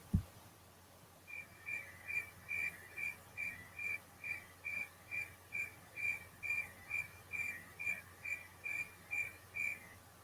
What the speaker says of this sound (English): I have a sound that sounds like a cricket, so listen carefully.